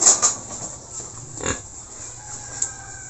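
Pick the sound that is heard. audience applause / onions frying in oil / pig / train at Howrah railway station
pig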